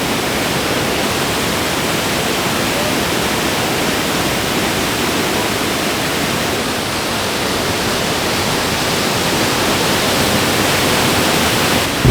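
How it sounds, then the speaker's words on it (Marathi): A loud, constant roar of rushing water fills the whole clip, steady and unbroken, from the nearby Thoseghar waterfall in Satara. "इथं पाठीमागे धबधबा आहे बघा"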